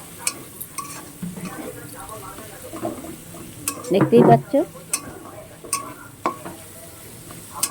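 Shrimp sizzling quietly in a pan with occasional utensil clinks and a brief louder burst of frying, a voice speaking softly in between.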